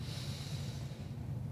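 Someone draws a deep breath in during a chiropractic adjustment, a soft, close, steady airy inhale with no talking.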